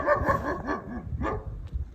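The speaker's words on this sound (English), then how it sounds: "I don't know if I want to enter with that dog barking like that." A dog behind a fence near a Balkan monastery barks repeatedly, a quick series of sharp barks and yips at moderate distance, then a couple of later single barks.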